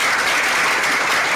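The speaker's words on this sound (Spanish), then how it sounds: "Vamos a dar un fuerte aplauso solo por eso." Conference audience applauding at a digital media and social networks congress, a dense, loud burst of clapping from many hands, sustained and even throughout.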